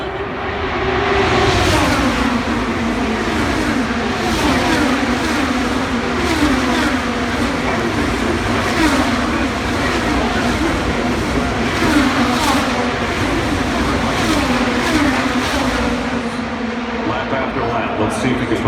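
IndyCar race cars at the Indy 500 coming off turn four, a dense continuous roar of engines sweeping past, loud and steady with repeated passing surges, under a commentator's voice.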